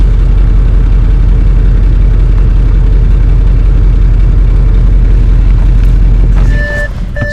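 Audi RS6 with its resonator deleted idles in comfort mode, a loud, steady, deep engine rumble held close up throughout, with a few short beeps near the end.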